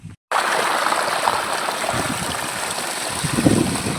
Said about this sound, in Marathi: पाणी सोडून दिलं वावरात